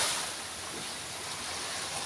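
Strong sea waves churned by a typhoon and monsoon winds rush continuously near a seaside fence, a constant broadband roar of surf without breaks, moderately faint and unaccompanied by voices.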